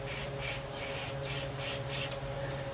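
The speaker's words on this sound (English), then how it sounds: "I got some carb cleaner right here on the bench. I just want to see if I can clean it." Carb cleaner sprayed from an aerosol can into the carburetor of a Stihl MS171 chainsaw on a workbench, several close, loud hissing bursts in quick succession with short gaps between them.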